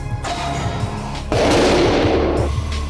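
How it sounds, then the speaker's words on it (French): A compressed-air cannon loaded with ice pellets fires with a loud blast and then a rushing burst, with heavy noise before and after and no talking. "À l'aide de son pistolet à air comprimé, il s'apprête à tenter l'expérience avec des grains de glace de tailles différentes."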